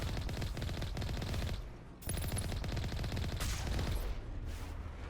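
The Mako vehicle's gun in Mass Effect Legendary Edition fires a rapid, continuous rattle of shots. The volley runs steadily, with a brief dip midway before the firing resumes just as densely.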